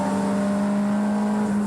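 A Nissan race car at Bathurst accelerates hard, its engine a steady, loud, close drone holding a strong pitch through the gear pull.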